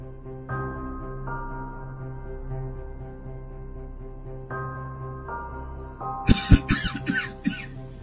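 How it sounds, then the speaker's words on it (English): A low droning tone holds for several seconds, then a sudden burst of a few harsh coughs rings out near the end. "immediately coughs, conspicuously."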